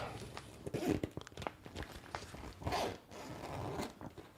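Cheap zipper on a DoorDash delivery bag being worked back and forth in short, close scraping runs, with faint handling noise around it.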